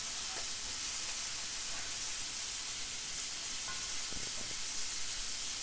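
Food browning in a hot pan with Italian herbs sizzles and hisses steadily at close range, a soft continuous frying crackle with a few faint clinks of stirring and no talk.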